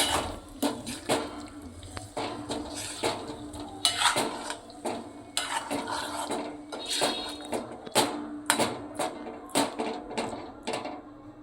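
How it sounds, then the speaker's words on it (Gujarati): A spoon scrapes and clatters against a pan, turning cooked potatoes with garlic and spices in a steady series of close metallic knocks and scrapes over a faint sizzle. "હવે આપણે આને સરસ મિક્સ કરી દઈશું"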